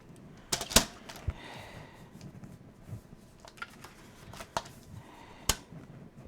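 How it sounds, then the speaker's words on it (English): A paper trimmer slicing through paper in a scrapbooking session, giving a few sharp, close clicks and swishes of the blade scattered across a quiet background. "I'm going to get my paper trimmer back out"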